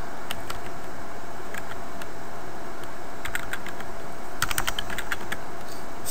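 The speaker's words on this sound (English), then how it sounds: "And to do that, we're going to type in do" Steady clicking keystrokes on a computer keyboard as a command is typed into a Cisco 3850 network switch, irregular short bursts of taps at close range with no talking.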